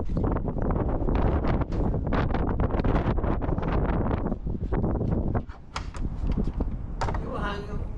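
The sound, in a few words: wind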